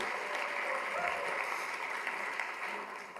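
An audience at the ADL National Leadership Summit 2023 breaks into continuous, dense applause, a steady wash of clapping heard without any talking over it.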